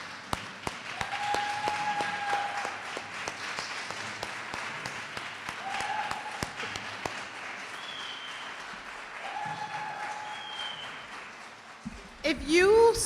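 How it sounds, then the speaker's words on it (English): An audience applauds at a business and professional women's brunch, with steady, dense clapping from a large crowd sustained for about twelve seconds before a voice comes in at the end. "let's applaud her for"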